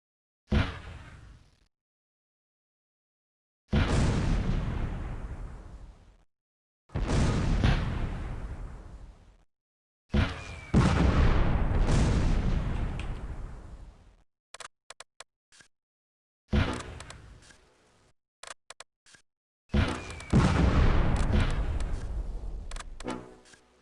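Artillery fire and shell explosions in the wargame Close Combat: A Bridge Too Far come as a series of loud, separate blasts, each a sharp crack with a long rumbling decay, some bursts close together, with brief ticking between them.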